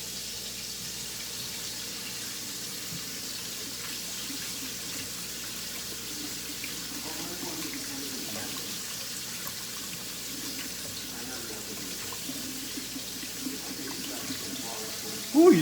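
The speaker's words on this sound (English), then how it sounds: "Now I'm going to wash my hands again." Hands are washed under a running kitchen tap, a steady even stream of water splashing into a sink at moderate volume, continuous for the whole stretch with a brief louder clatter at the very end.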